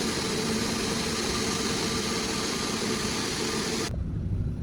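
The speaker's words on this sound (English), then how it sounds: "The hum of engines" A steady, low jet engine hum drones continuously at an airport at night, with a faint whine above it, then the higher tones cut out abruptly near the end, leaving only the low rumble.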